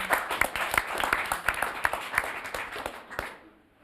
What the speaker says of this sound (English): Let's clap for her, please.